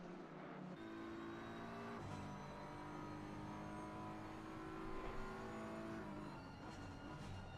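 BMW race cars in a sim racing video game, engine notes droning and shifting pitch steadily as they run together, loud and continuous throughout with no speech.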